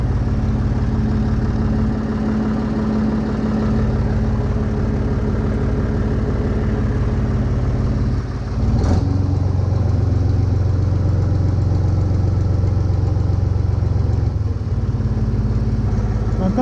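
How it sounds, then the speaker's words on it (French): A Renault tractor's engine idles steadily and loudly up close after running for about ten minutes, with a brief knock and a slight shift in pitch midway through. "ça fait bien une dizaine de minutes que mon tracteur tourne"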